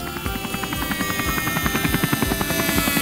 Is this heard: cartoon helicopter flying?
yes